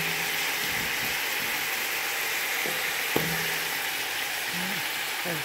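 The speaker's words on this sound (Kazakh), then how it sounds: "Енді оның үстіне сәбізіміз салып қуырамыз." Meat and carrots frying in a pan give a steady, close sizzle throughout, with a few clinks of stirring utensils against the pan.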